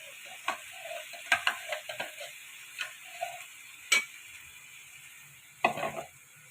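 Vegetables sautéing with masala in a pan: soft sizzling under repeated clinks and scrapes of a spoon stirring against the metal, irregular and close.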